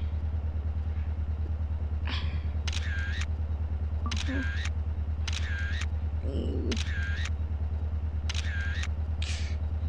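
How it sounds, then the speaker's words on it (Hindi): A camera shutter fires in GTA San Andreas while photographing a motorbike, several crisp clicks spaced a second or two apart over a steady low engine drone, with brief faint voice sounds between. "इस बाइक की एक फ़ोटो खींच लेंगे"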